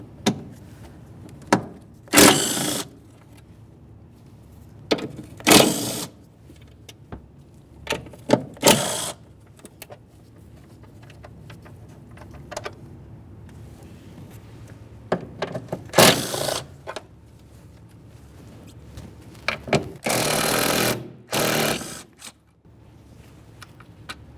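Several short, sharp bursts of a tool whirring and rattling break out at irregular intervals as 10mm bolts and a nut come off the intake manifold of a 2012-2018 Nissan Altima 2.5L four-cylinder, with quiet stretches between.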